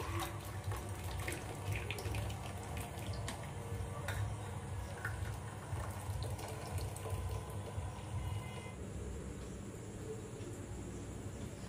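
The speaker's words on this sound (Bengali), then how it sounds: "চা ছেঁকে নিচ্ছি" Freshly brewed green tea strained and poured into a cup, a steady close trickle of liquid running for most of the moment before easing off, with no voices over it.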